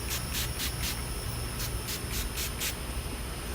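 A hair spray bottle fires a quick run of short, close hissing bursts, about eight in rhythmic succession, then stops.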